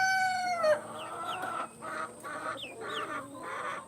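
A hen gives a strange, crowing-like call that slides downward, then a run of soft, close clucks and short chirps, with no talking.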